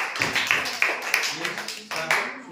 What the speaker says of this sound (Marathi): वैभवीसाठी जोरदार टाळ्या